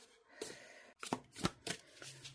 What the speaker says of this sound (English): I'm going to have to give it a good shuffle